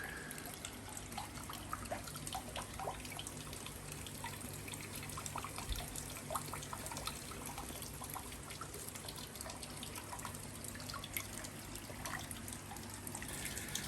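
Water discharged from a swimming pool's bottom drain pours steadily onto a garden, a constant low splashing trickle with small irregular drips, faint and unbroken, with no talk.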